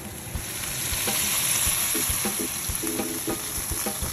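Cream stirred into bubbling pasta sauce in a pan, with a steady close sizzle and scattered soft scraping knocks of a utensil through the mix.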